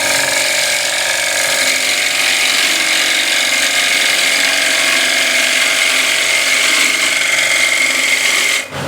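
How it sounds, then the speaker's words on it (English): A wood-turning gouge cuts a spinning workpiece on a lathe, a steady, loud, continuous scraping whir that holds evenly throughout before cutting off abruptly at the very end. "I need to slow down the feed rate and let the gouge cut the wood"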